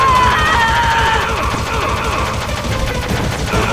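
Rapid, continuous gunfire in the video game Metal Gear Solid, a dense rattling barrage that stays loud for the whole stretch over game music.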